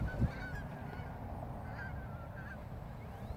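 Geese honk repeatedly overhead, a few distinct calls passing by against steady outdoor background noise.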